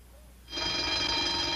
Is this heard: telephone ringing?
yes